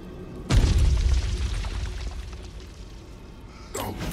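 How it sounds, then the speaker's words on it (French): Grenades explode in a Baldur's Gate III battle: one loud, deep blast with a long rumbling decay, then a second burst near the end. "Je vais lancer ces grenades."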